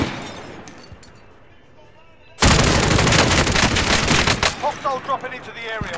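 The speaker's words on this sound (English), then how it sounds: "Oh, they're shooting at me." Gunfire in the video game Call of Duty Warzone erupts suddenly after a quiet stretch, a dense sustained burst of shots with rapid bursts continuing, and a voice speaking amid it.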